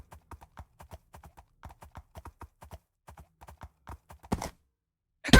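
Horse hooves in a video game, a crisp steady clip-clop of evenly spaced hoofbeats that pauses, resumes briefly, then gives way to a couple of short noisy bursts.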